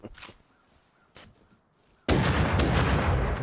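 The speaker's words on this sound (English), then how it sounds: "The shotguns are so rowdy." Shotgun blasts in the survival game Rust: a couple of sharp, spaced shots at first, then a loud, sustained barrage of heavy booming fire that fills the rest of the moment.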